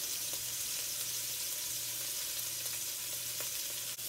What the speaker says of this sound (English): we're going to go ahead and add our roast. And we're going to brown this on both sides.